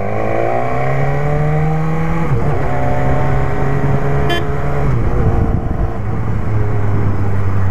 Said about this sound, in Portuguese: eu estou andando com uma BMW